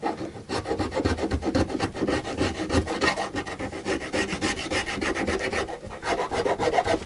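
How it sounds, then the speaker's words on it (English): A blade scrapes the wooden neck of an Indian Encore AristoCat Strat guitar by hand, making repeated close, raspy strokes in a steady back-and-forth rhythm. "easier to scrape with a blade"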